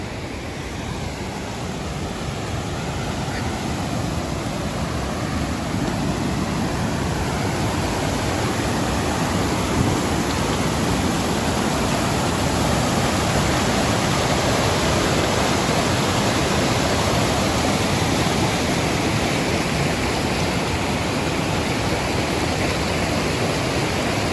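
River water rushes steadily over a rocky bed near old mine tailings, a dense, unbroken roar heard close and constant for the whole length, with no voices.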